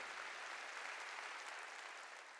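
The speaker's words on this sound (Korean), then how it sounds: "박수로 하나님께 영광을 돌려요" Church congregation applauding during a Korean sermon, a soft, even wash of many hands clapping, steady and distant throughout before easing slightly at the end.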